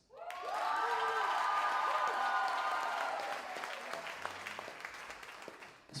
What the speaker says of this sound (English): the loudest cheer is going to decide our Battle of the Bands